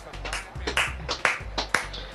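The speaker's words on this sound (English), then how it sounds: "Give yourself a round of applause" A few slow, deliberate hand claps ring out close by, roughly five sharp evenly spaced smacks with a low hum underneath, during a FIFA 14 co-op gaming session.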